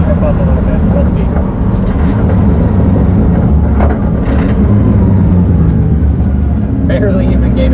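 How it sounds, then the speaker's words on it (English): A 2JZ-swapped BMW E36 on cold, grip-less tires roars loud and steady throughout as the engine revs and the rear wheels spin, a dense unbroken drone with brief louder surges. "Barely even gave it fucking throttle and it just blew the tires off"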